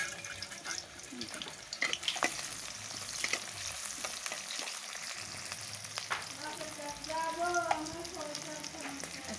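Whole cinnamon and cardamom frying in a pan over a wood-fired stove, a crackling sizzle with scattered sharp pops and clinks, some water running and a voice briefly in the background.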